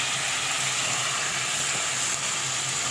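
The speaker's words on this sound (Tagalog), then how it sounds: "Igisa natin." Browned pork and tomato sauté in a pan, giving a loud, continuous sizzle and hiss that stays even from start to finish, with no talking.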